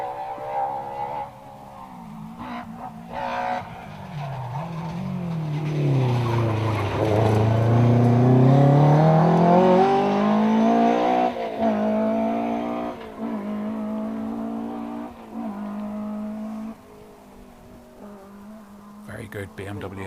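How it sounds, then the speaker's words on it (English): A BMW M3 rally car on a Circuit of Ireland Rally stage in 2023, its engine revving and rising in pitch as it approaches, peaks loudly with tire squeal, then fades away while commentators talk. "Good BMW M3. Yeah, sounds great."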